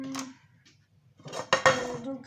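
A metal saucepan is handled in a home kitchen while cooking mashed potatoes with bacon: a clink, a pause, then a cluster of louder clattering knocks against other cookware, close and sharp.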